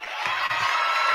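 A large crowd at a political speech in Florida cheers and applauds, a dense, steady roar of voices and clapping that swells and holds loud for the whole short moment.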